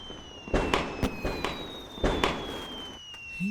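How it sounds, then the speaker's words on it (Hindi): Firecrackers going off in a quick irregular string of sharp bangs, several loud cracks spaced a fraction of a second apart over a steady background hum, with no talk. "ये लोग पटाखे क्यों फोड़ रहे हैं?"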